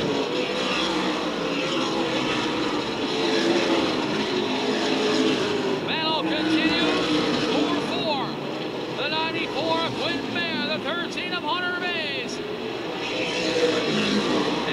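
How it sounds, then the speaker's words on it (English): ARCA/CRA Super Series stock race cars lapping Kalamazoo Speedway, a steady loud roar of engines sweeping past through the turns under continuous race commentary. "They go into three and four. He carefully negotiates and gets by the number four of Buddy Head."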